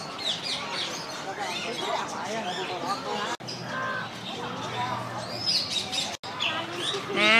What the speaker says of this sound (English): So many parrots to look at.